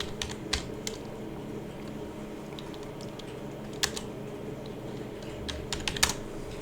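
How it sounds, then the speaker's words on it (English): Quiet keystrokes on a computer keyboard come in short scattered bursts with gaps between them, close and faint over a low steady room hum. "How do you type guard?"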